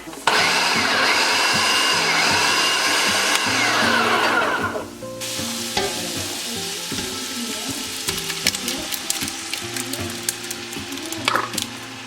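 A food processor chopping fresh tomatoes runs as a loud, steady motor whir for about five seconds, then cuts off, leaving quieter clicks and taps close by.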